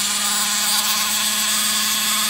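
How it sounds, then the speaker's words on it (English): A modified STIHL 201T with sandpaper attached runs at very high RPM, making a steady, loud, buzzing flutter as the sandpaper flaps continuously. "that sandpaper is just flapping around at a really high RPM"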